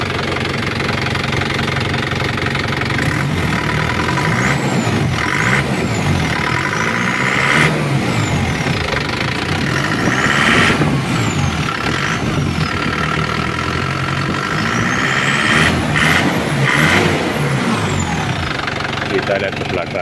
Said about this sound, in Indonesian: Dan suara turbonya udah berbunyi.